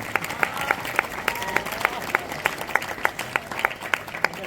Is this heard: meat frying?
no